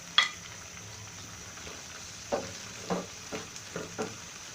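Sliced onion and capsicum cooking in a pan for Chinese-style vegetables, with a faint sizzle under a sharp initial clink and several soft stirring scrapes, quiet and close.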